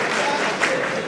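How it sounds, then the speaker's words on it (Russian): Audience applauding in a room, a brief, dense burst of many hands clapping at steady loudness with no talk over it. "А теперь аплодируем."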